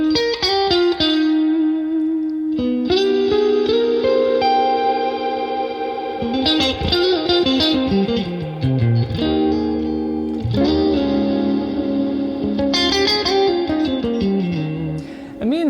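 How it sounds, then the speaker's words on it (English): Electric guitar through a Lumos ambient pedal with spring reverb engaged, chords and single notes ringing with long washy tails and some modulation, played alone and loud with brief pauses between phrases. "let's say I've got my spring reverb on here"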